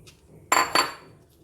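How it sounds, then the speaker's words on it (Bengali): Small mourola fish tipped into a cooking pan, giving two quick, close metallic clatters a fraction of a second apart, then a short fading rattle in a quiet kitchen. "এবার আমি যে প্যানে রান্নাটা করব সেই প্যানের মধ্যে মাছগুলো ঢেলে দিলাম।"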